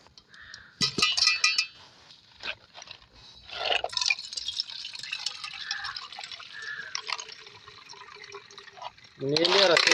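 Water is poured over freshly boiled snails in a pot to cool them, making an intermittent splashing trickle with a louder gush near the end, while a person talks.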